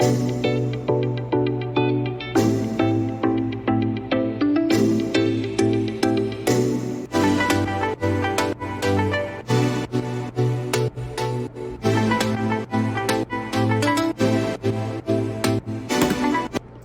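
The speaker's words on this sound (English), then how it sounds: "it's like a saw kind of pluck that's like low pass throughout there" Layered, muffled saw-synth plucks play a steady rhythmic pattern over a low bass line, dark and filtered, continuous throughout.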